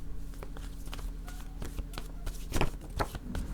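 A card drawn from a deck during a French-language card reading, a few soft papery slides and taps spread over a quiet room background.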